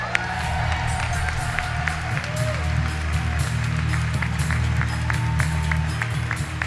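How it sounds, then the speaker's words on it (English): Crowd applause and scattered cheering fill a large hall at the Equator Prize 2017 award ceremony, a steady broad wash of clapping with a low hum beneath it. "Let's hear one more round of applause real quick."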